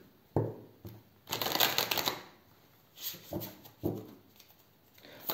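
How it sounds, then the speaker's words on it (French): Tarot oracle cards riffle and slap in a few short bursts, one longer shuffle in the middle and a couple of crisp draws, close and clear in a quiet room. "Alors, on va prendre une carte de celui-ci."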